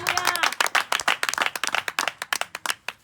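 A church congregation clapping loudly in a quick, steady rhythm, dense close hand claps running throughout, with faint voices mixed in.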